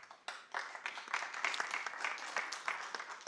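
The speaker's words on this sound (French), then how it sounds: "On vous applaudit." Audience applause after a personal account of life following a bone marrow transplant, with close, distinct claps building into a lively, uneven patter that stays strong to the end.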